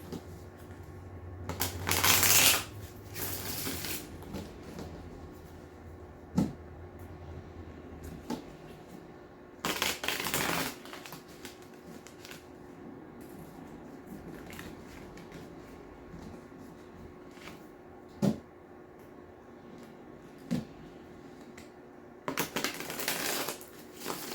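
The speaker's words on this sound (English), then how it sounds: "I'm going to shuffle these really quick," Several short bursts of oracle cards being shuffled, papery riffles and flutters spread out with quiet pauses between, close and moderately loud.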